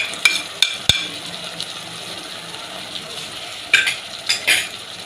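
A spoon scrapes and knocks against a pan while masala with chopped green chillies and tomatoes is stirred for daal karela, several sharp clinks over a soft background sizzle.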